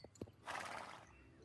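A horse in the video game Star Stable Online gives a single neigh lasting about half a second, preceded by a couple of soft hoof taps, moderately loud and alone.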